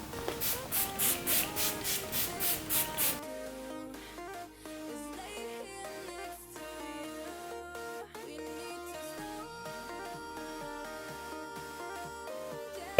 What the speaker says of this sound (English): I'm going to go ahead and spray this